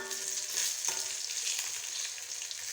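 Food frying in oil in a home kitchen, turned over and browned on low heat: a steady, fairly quiet crackling sizzle runs throughout, with one brief clink near the middle.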